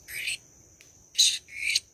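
Three sharp, high bird calls in quick succession against a quiet background in woods at night, fairly close and clear.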